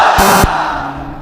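A crowd at an Islamic sermon roars a loud, brief collective Takbir shout in reply to the preacher, a burst of massed voices that cuts off sharply and leaves the hall's murmur behind.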